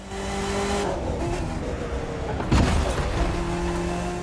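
Sports car, a Cadillac Veyron, in The Crew 2 racing game: a loud, steady engine drone that holds and shifts pitch as the car cruises, with a brief heavier burst midway.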